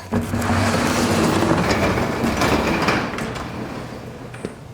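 A garage door rumbles and rattles steadily as it rolls open, a loud mechanical grinding that eases slightly toward the end, with no talking.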